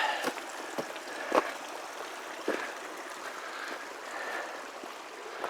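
A creek with patches of ice flows steadily along the Chamiza Trail, a soft, continuous rush of water broken now and then by small splashes and trickles.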